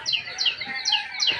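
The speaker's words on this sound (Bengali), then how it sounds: "সকাল সকাল চারদিকে এই যে গাছে গাছে পাখিগুলা ডাকে" Birds call and chirp from village trees at dawn, a cool misty morning walk after the pre-dawn meal, with repeated bright descending chirps from several birds, fairly near and steady with no talking.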